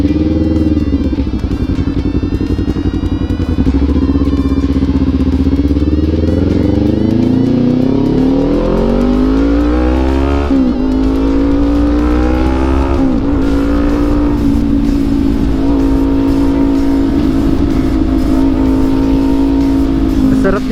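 A Kawasaki Ninja 400 motorcycle engine runs continuously during a ride, loud and close, its pitch rising and falling through repeated revving and gear changes.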